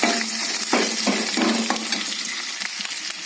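Chillies and curry leaves frying in oil for a vegetarian curry salna, a loud continuous crackling sizzle with rhythmic stirring scrapes, no talk.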